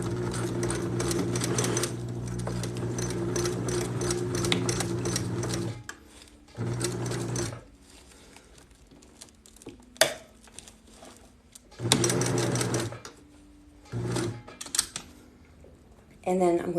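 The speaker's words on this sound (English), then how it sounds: "And then I'm going to reverse stitch back and forth at least 3 times." A sewing machine stitching fabric while mending clothes, running in loud steady bursts of several seconds separated by pauses, with a few clicks and brief speech in the gaps.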